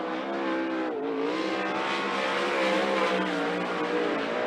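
A 410 sprint car runs hot laps on the track at Skagit Speedway, its engine snarling loud and close with a steady high-pitched drone that briefly dips and surges as it works around the oval.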